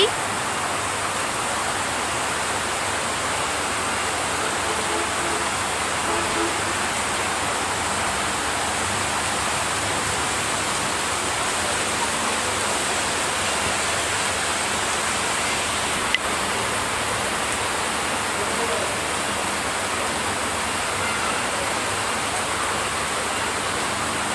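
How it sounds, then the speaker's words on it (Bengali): Heavy rain falling outside a house, a thick, unbroken roar of steady downpour that holds at an even level for the whole stretch, with no clear talk over it. "এই যে প্রচুর বৃষ্টি"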